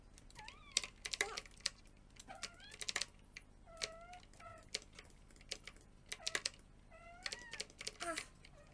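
A cat meows several times in a short run of rising, tonal calls, each fairly brief, heard close amid soft tapping and clicking noises.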